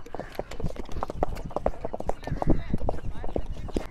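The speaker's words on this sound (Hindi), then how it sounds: "हाँ भाई घोड़ा चलना स्टार्ट हो गया है।" Steady clip-clop of a horse's hooves at a walking pace while it is ridden, close and fairly loud, with excited voices and shouts running over the hoofbeats.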